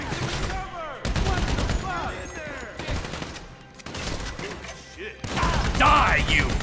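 Heavy gunfire during a bank robbery shootout in GTA 5, loud close bursts and sustained volleys with sharp cracks and thuds, while characters shout and talk through the fight.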